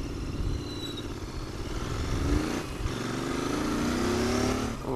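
A Royal Enfield Continental GT 650 motorcycle engine running close by, a steady low throbbing idle with slight rises in pitch, with no other sounds over it.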